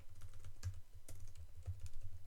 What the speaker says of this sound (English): it's hard to type on this new keyboard